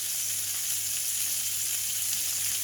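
Thick slices of A5 Wagyu beef sear in a hot pan with a steady, loud, even sizzle that holds from start to finish, with no voices over it.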